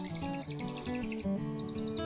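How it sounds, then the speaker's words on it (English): A nightingale sings in full song from shrubbery behind a fence at a Thameside nature park, with rich repeated warbles, whistles and trills running continuously and fairly close, with no talking. "So the nightingale's in full song."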